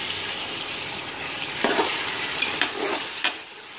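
Slit green chillies fry in a pan with a broad, steady hiss, broken by a few brief stirring scrapes and spatters near the end, all close and moderately loud.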